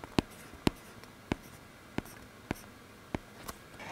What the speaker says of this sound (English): writing on the Paperlike screen protector is like writing on paper.